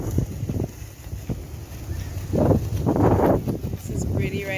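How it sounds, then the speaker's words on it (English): Wind gusting across a high hilltop at Egmont, Grenada, heard as a steady rough rumble of microphone buffeting that swells louder in the middle, with a few faint knocks and rustles along the way. "It's very windy up in Egmont."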